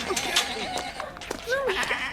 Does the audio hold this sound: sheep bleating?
yes